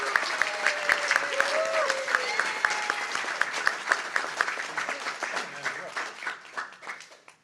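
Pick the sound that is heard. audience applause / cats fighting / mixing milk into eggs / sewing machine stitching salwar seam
audience applause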